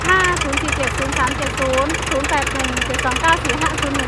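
A Ford 77T5 farm tractor engine idling steadily, a close, continuous rumbling drone with rhythmic knocking pulses throughout, alone without talk.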